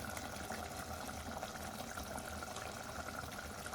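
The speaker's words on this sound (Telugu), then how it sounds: "పక్క తీసి ఉన్న టమాటా జ్యూస్ని వేసుకోండి." Tomato juice poured into a brinjal curry, a soft continuous liquid splashing, faint and steady throughout with no talk.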